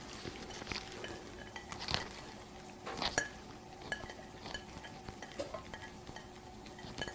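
Cooked pasta is dropped and spread as a layer into a baking dish for an Egyptian béchamel pasta bake, giving soft wet thuds, clinks and stirring scrapes, close and irregular, with no talking.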